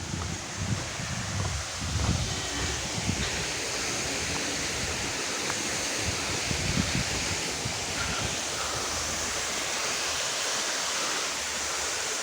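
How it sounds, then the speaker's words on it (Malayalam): The Ayyappanovu waterfall pouring down in a steady, broadband rush of cascading water, continuous and fairly distant, with no talking. "ഇവിടെ എത്തിയപ്പോൾ തന്നെ വെള്ളം പരന്ന് ചാടുന്നത്"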